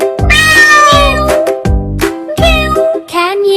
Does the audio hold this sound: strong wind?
no